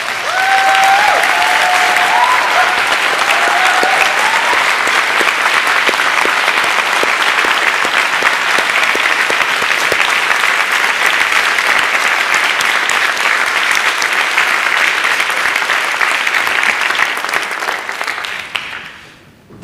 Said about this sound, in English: Could I ask all of you to be upstanding and applaud them to say thank you for their love and support